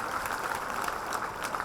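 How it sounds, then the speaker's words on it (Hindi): Audience applause welcoming Dr. Vinod Mall, an Ahmedabad University professor, onto a student event stage: steady, dense clapping from a sizeable crowd, fairly even and moderately loud throughout with no pauses. "एक बार जोरदार तालियों के साथ स्वागत करें इनका"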